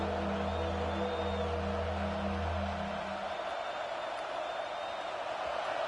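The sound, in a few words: home crowd cheering in a college football video game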